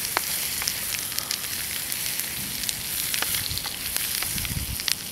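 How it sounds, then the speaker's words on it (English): Steady crackling sizzle of goosegrass and chorizo frying in a pan with butter, close and continuous, with occasional sharper pops. "I've just put them in a frying pan with butter, and then I've added some chorizo"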